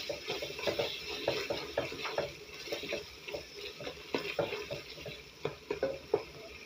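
Tomato paste stirred in a frying pan with a spoon, making repeated scraping, clicking strokes at an uneven rhythm over a soft sizzle, close and fairly quiet with no talking.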